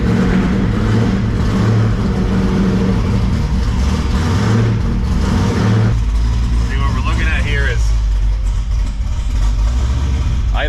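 A twin-turbo LSX-swapped Cadillac Escalade engine runs loud and steady at a high idle, a continuous low drone that holds throughout, with people talking briefly toward the end.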